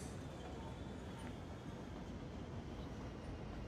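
Trains rumble through a crowded video-game railway station, producing a steady, dense roar and rattle that stays even and loud throughout.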